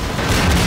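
A grenade blast in the video game Synergy, a loud, dense rumbling boom that fills the whole moment with no speech over it.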